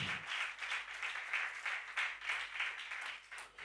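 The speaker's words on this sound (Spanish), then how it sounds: "¿Cuántos dicen amén y le dan un fuerte aplauso a Jesús?" A church congregation bursts into sustained applause for Jesus, a steady wash of many hands clapping at moderate distance for a few seconds.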